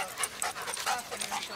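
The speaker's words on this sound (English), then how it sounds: "Oh, that's a beautiful dog." A dog pants at Crescent Beach in fast, rhythmic breathy huffs, close and fairly soft, with faint voices in the background.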